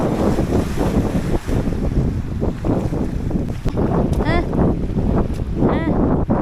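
Strong, steady wind buffeting the microphone outdoors, a constant roar with gusty fluctuations and occasional faint chirps in the background.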